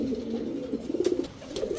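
Soft, low cooing from a high-flyer Giribaz racing pigeon nearby, a few throaty warbling notes in a row against a quiet room background.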